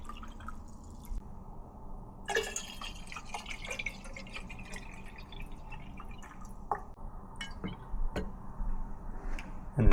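Water being poured into hydroponic reservoir jars for Kratky-method plants, with irregular drips, trickles and small splashes against a low steady background, and no talk.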